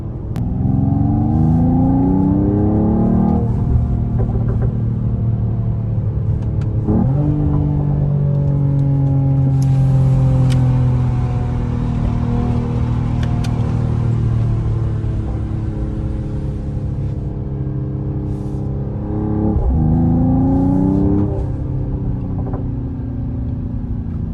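A Mercedes-AMG GT53 engine drones loudly from inside the car while driving, pitch climbing through repeated gear pulls, with sharp drops at each shift and a steadier cruise in between.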